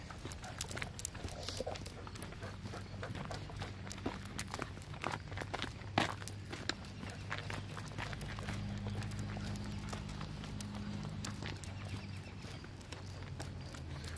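Horses' hooves clip-clop steadily on hard ground at an RV campground as they walk, an irregular run of knocks over quiet outdoor background.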